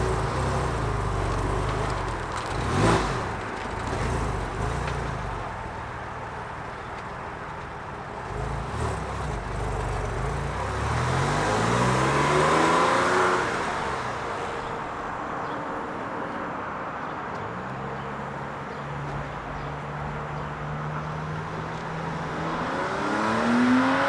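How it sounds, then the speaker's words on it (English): A Porsche 996 fitted with a Sixty61 muffler bypass passes by, its engine note rising as it approaches, sweeping through in a loud Doppler pass and fading before a fresh rev builds toward the end, heard alone outdoors. "he's gonna drive, get us a flyby clip"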